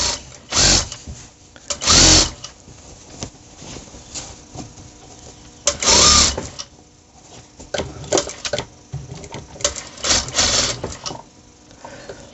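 A sewing machine stitches the belt of a pair of trousers in several loud close bursts of rapid mechanical whirring, separated by quieter pauses and light handling noises.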